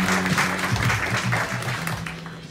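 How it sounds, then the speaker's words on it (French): Audience applause at an association launch evening, a dense burst of clapping from a crowd that holds steady and then slowly tapers over a couple of seconds. "Je vais vous demander de l'applaudir"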